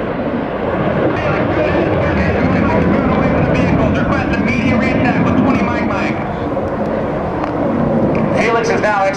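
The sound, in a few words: military jets flying low at an airshow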